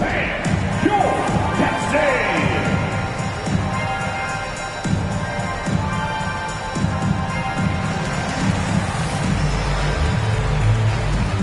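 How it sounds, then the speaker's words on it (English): A large indoor video game arena crowd at a 2KFL football league game cheers and applauds steadily, with shouts rising over the roar and an announcer's voice cutting in. "The big round of applause for your captain."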